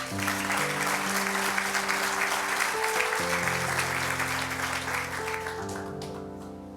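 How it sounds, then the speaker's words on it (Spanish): A church congregation applauds steadily through the whole stretch, the dense clapping blending with music that plays loudly underneath and fading a little at the end. "Démosle un fuerte aplauso"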